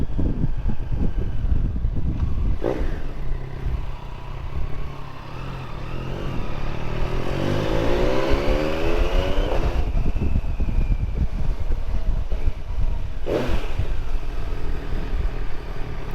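A Yamaha Tracer 9 GT motorcycle engine hums and revs with a rising pitch sweep partway through, heard under heavy wind rush while riding, with brief louder bursts.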